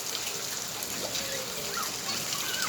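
Light rain falling steadily at the start of the June monsoon, a soft, continuous patter with small drips and trickles, a moderate wash of sound with no voices.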